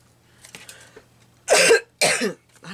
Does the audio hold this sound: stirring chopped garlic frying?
no